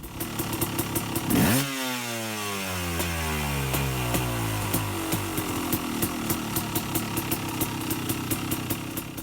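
A KTM 250/300 two-stroke dirt bike engine with a Rekluse RadiusX auto clutch rises sharply in revs, then settles into a steady running drone in second gear, with a crackling, buzzy exhaust pulsing close by.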